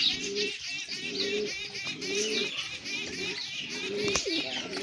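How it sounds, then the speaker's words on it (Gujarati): Pigeons cooing near a pond where young pigeons are kept, repeated soft throaty coos in a steady rhythm with faint chirps and occasional rustling, fairly close and moderately quiet. "અહીં છે આપણા કબૂતર"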